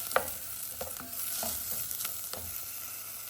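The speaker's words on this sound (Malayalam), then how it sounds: "ഇഞ്ചിയും വെളുത്തുള്ളി പച്ചമുളകും കൂടി ചേർത്ത് സവാള വഴറ്റിക്കൊണ്ടിരിക്കുകയാണ്." Sliced onion sautés in coconut oil with ginger, garlic and green chili for a roasted coconut chicken curry: a soft, steady sizzle broken by several scraping stirs of a spoon against the pan, close and fairly quiet, with no talk.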